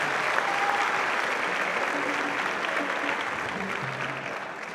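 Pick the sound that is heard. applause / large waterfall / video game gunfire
applause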